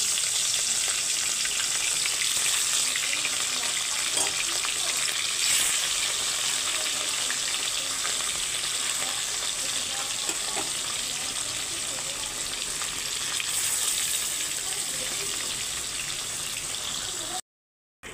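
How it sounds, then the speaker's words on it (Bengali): Rohu fish frying in hot oil produces a steady, dense sizzle that runs unbroken and fairly loud for about seventeen seconds, with faint occasional clicks, then cuts off abruptly near the end. "এখন আমি মাছগুলো ভেজে নিচ্ছি"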